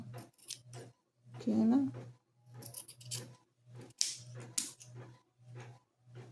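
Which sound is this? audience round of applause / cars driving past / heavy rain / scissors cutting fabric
scissors cutting fabric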